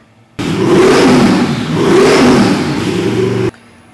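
Nelson Racing twin-turbo, intercooled engine roars on a dyno pull, a loud sustained howl that rises, dips and climbs again before cutting off abruptly after about three seconds.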